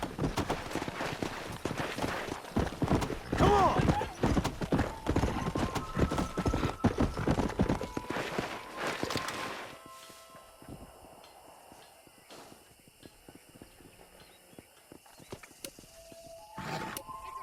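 Steady hoofbeats clip-clop from a horse being ridden in Red Dead Redemption, a brisk rhythmic gait for about ten seconds before fading, with a voice calling out briefly and faint game ambience afterward.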